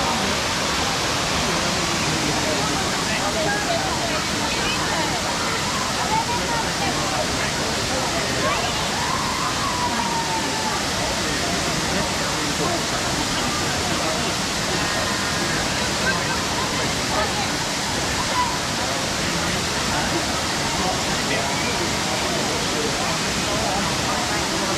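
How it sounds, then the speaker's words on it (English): Florence Falls in Litchfield National Park, Northern Territory, pours heavily, producing a loud, steady, unbroken rush of falling water that fills the whole scene. "Florence Falls is still flowing."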